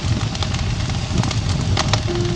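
Wood burns in a brick home heating stove on a veranda, a steady loud crackle and hiss with scattered sharp pops throughout, no talking.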